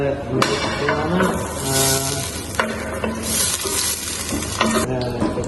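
Vegetable ghee melting and sizzling in a hot pan for green chili rice pulao, a continuous close frying hiss with occasional spoon scrapes and clinks.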